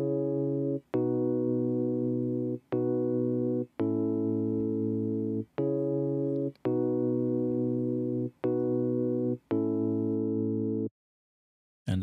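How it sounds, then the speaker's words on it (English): A simple piano melody for a Kompa and Afrobeat track plays as a series of sustained, evenly spaced notes with brief gaps, clean and alone, ending in a short silence. "let's start with the piano melody, and it goes a little something like this"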